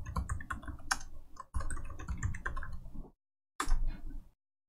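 Passphrase keyed in on a computer keyboard: rapid, close typing clicks in steady bursts, a brief pause near the three-second mark, then one more short flurry of keystrokes.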